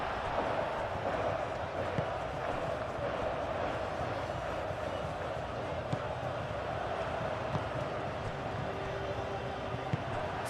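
Stadium crowd noise in eFootball PES 2021 during a Spain versus Saudi Arabia match, a constant low roar and murmur running underneath match commentary.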